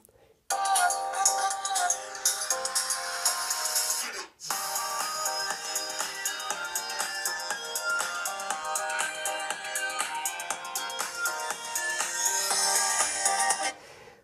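A Xiaomi Redmi Note 9 Pro ringtone melody plays through its small speaker, bright and tinny, pausing briefly before the tune continues at steady volume.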